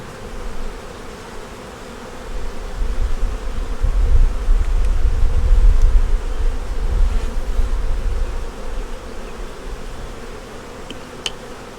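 Dense, steady buzzing of honey bees at a productive hive making honey, a continuous droning swarm that swells louder in the middle and stays close, with no voices.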